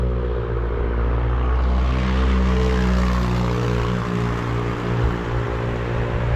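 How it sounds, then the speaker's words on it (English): A loud vehicle whose muffler has come loose passes at night, its deep, rough engine drone holding steady and close for several seconds with no talk. "we got somebody without a muffler coming up behind us"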